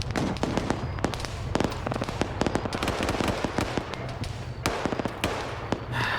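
Grenade launcher rounds bursting during a large multiplayer PvP battle in the Arma 3 video game: a rapid scatter of sharp cracks and thuds, some overlapping, of moderate loudness against a busy combat background.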